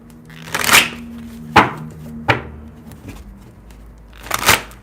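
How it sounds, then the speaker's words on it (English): Tarot cards being shuffled in a live reading, heard as several separate crisp riffling bursts, fairly close, with short gaps between them and no talk. "The cards are not ready. I'm still shuffling."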